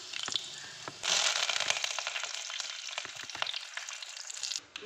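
Mustard seeds and urad dal splutter in hot oil for a Kerala thazhuthama thoran, a dense, loud crackling sizzle that bursts in after a second and keeps popping steadily close by.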